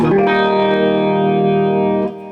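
A sustained electric guitar chord through a DLS RotoSIM rotary speaker pedal at slow speed shimmers with a slow, swirling wobble, held steady and loud before dropping away at the end.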